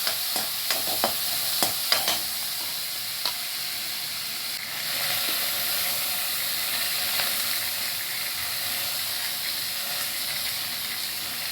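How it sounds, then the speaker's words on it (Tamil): Chopped onions sauté in a pan for squid gravy, giving off a continuous bright sizzle. A few sharp scrapes and clinks of the spatula land early, then the frying hiss carries on evenly. "இந்த மாதிரி நல்லா வதக்கி விட்டுருங்க."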